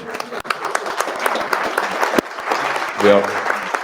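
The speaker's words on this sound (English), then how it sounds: "Please give a round of applause for William Potter" An audience at a Nobel peace seminar applauds a speaker's introduction, with steady clapping from many hands under a speaking voice and a few louder, sharper claps standing out.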